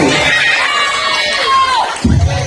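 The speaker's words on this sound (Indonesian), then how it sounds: "Tepuk tangan buat ketua Bawaslu" A crowd at a campaign rally cheers and claps for the Bawaslu chairman, a loud mix of shouts and voices swelling together before a burst of clapping near the end.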